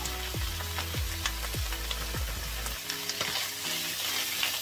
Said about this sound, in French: Et vous mélangez bien